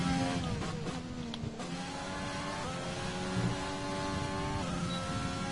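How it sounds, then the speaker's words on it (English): Formula 1 car engine from the F1 2020 racing game, Australia circuit, revving and accelerating with rising, whining harmonic pitch sweeps and gear shifts, steady and loud throughout with no talking. "And that was just me with the acceleration there."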